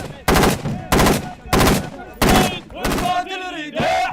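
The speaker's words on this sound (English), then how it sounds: "Hear them replying, they're firing back towards this farmhouse." Gunfire exchange between militia fighters and Islamic State forces around a farmhouse in Iraq: four heavy, loud bursts of automatic fire in quick succession, followed by fainter shots and tonal sounds near the end.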